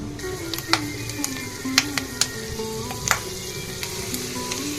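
Peanuts roasting in a hot oil tempering for Karnataka-style oggarane rice, a steady close sizzle and crackle with sharp scattered pops and light stirring of the pan.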